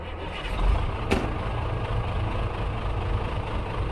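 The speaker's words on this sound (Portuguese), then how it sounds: "quando o motor rugiu" Heavy truck engine running with a deep, loud low rumble throughout, a brief sharp burst near the start as it revs, then settling into a steady idle-like drone.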